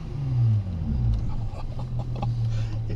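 A 460hp Komotec-tuned Lotus Exige drives along with a deep, steady engine drone and low rumble, its pitch shifting slightly as it runs, heard from inside the car.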